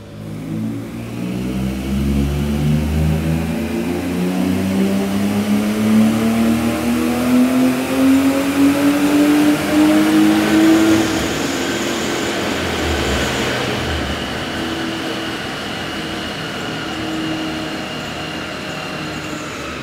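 A BMW E36 engine on a dyno revs loud and close, its pitch climbing steadily through the gears to a peak, then it drops back and settles into a lower drone.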